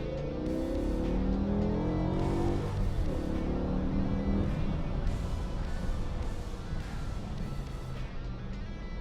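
A BMW E60 M5 V10 pulls to higher revs with the windows cracked open, giving a loud, continuous engine roar that climbs and eases through the run, with no talking.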